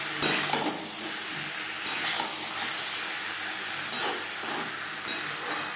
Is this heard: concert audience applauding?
no